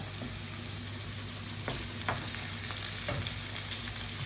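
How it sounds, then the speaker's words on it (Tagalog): Aromatics sauté in a pan as the base for pansit bato noodles, giving a steady, moderately loud sizzle with occasional clinks and scrapes of stirring. "lahat ng pansit nagsisimula sa gisa"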